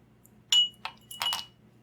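Cold steel whiskey stones clink against a glass in a few sharp, close metallic taps, a single bright strike followed by a softer knock and then a quick double clatter, with no talking.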